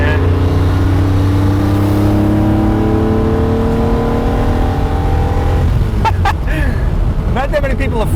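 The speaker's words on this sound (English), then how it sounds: "I'm flooring it here." A 1960s Ferrari 250 GT Lusso V12 accelerates hard at full throttle, its engine note climbing steadily and loud for about six seconds before easing off, with talk from inside the car toward the end.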